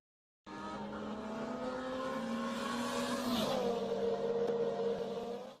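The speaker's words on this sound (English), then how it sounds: "The air is filled with excitement and the loud noises from their power engines." Race car engines roar past at full speed on a track, a sustained loud whine with a pitch drop midway as a car passes close by, then continuing steadily.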